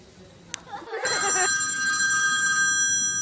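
A telephone rings loud and close after a brief click, its bright sustained electronic bell tone holding steady for a couple of seconds before fading slightly, with no talk over it.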